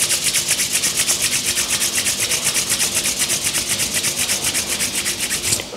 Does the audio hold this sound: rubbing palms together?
yes